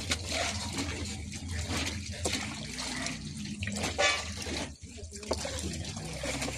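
Clothes being washed by treading on them in water, a steady close sloshing and splashing with rhythmic squelches throughout.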